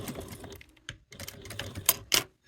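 A sewing machine stitching piping onto a crossbody bag gusset gives close, quick mechanical chattering in short uneven bursts with brief pauses between.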